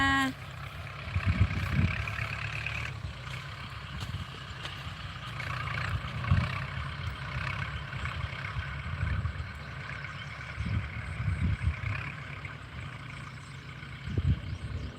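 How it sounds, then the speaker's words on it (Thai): A tractor ploughs a rice paddy in rural Thailand, its engine a steady rumbling drone with periodic louder surges, heard at moderate distance with no voices over it. "มาชมรถไถนาเด้อ"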